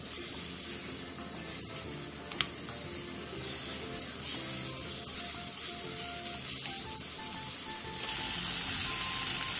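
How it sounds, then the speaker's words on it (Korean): Potato pieces stir-frying on high heat for gochujang stew, a steady close sizzle with light clinks and scrapes that grows louder toward the end. "그 다음 감자를 넣고 감자의 겉면이 살짝 투명해질 때까지 센 불에서"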